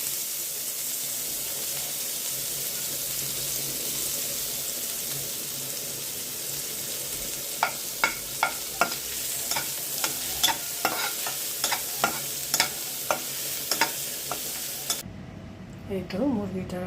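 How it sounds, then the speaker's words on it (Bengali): Chopped onions sizzle in oil left over from frying fish, a steady hiss of frying with regular sharp clinks of a spoon stirring in the pan, fairly close, ending with a brief clatter. "মাছ ভাজা তেলের মধ্যে পেঁয়াজ কুচি দিয়ে দিচ্ছি।"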